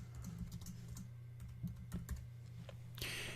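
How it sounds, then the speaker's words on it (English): Quick keystrokes on a computer keyboard tap out a short phrase in a close, soft run over a low steady hum, ending in a brief brighter rustle. "And then we just come over here and type in our text."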